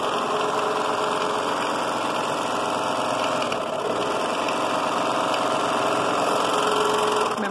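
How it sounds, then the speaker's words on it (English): Serger sewing machine stitching fabric for a pinafore dress, a continuous close mechanical whir with a steady motor hum and rapid needle chatter, running without pause and no talking. "So again, I'm going to just run it through the serger."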